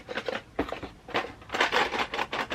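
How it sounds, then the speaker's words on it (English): Light styrene plastic model kit parts clatter and crinkle as they are handled, a series of dry, brittle rustling bursts at close range. "There's no doubt that is the sound of styrene plastic."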